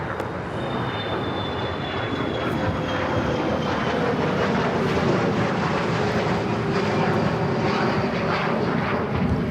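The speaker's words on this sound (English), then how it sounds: "That is a Gulfstream 4 taking off." Gulfstream 4 business jet taking off at LAX, a loud, broad, sustained engine roar that holds steady and swells slightly over about ten seconds, heard from nearby with no voices.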